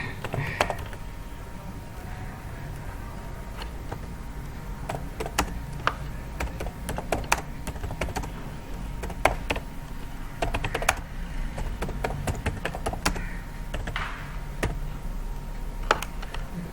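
Someone types on a computer keyboard while writing text for an avatar video, producing close, irregular clusters of sharp key clicks across the whole stretch over a low background hum.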